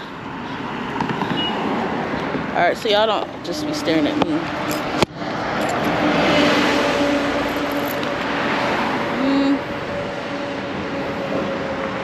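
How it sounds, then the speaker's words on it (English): Traffic passes along a city street beside a church parking area, a steady loud road rumble and whoosh of passing vehicles that swells in the middle, with someone talking over it. "Okay, cars."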